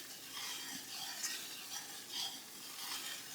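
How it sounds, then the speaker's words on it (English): A flour roux for giblet gravy being stirred in a pan gives a steady, close scraping hiss that swells softly every second or so, with no voices. "And we're going to start stirring. We'll make it a roux is what it's going to be."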